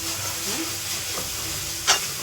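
Onion sizzling in a pan while cooking chole, a soft steady fry hiss with a brief stir scrape near the end.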